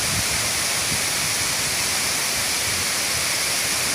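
Inambacan Falls in Catigbian, Bohol, pours in a steady, dense roar of falling water, close and continuous throughout with no voices.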